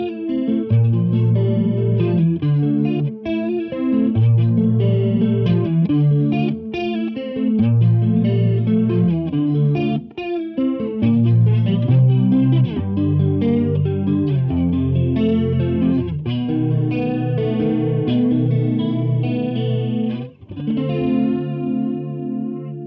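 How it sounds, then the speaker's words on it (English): Electric guitar played through a Warm Audio WA-C1 chorus vibrato pedal with the rate turned up, giving a strongly warbling, wavering tone over steady chords and single notes, loud and continuous with no talking. "Now we're starting to get into the really warbly sounds,"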